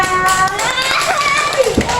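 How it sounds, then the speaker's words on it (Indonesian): Schoolchildren in a classroom clapping their hands together, a dense burst of quick claps mixed with tonal children's voices and chatter throughout. "Ayo, tepuk tangan semuanya."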